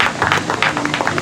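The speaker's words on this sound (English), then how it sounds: "Let's give our brother Marlon, another round of applause." Brief burst of audience applause after a political talk at a community event in Dayton, close and fairly loud, with scattered claps over a crowd wash and a voice faintly underneath.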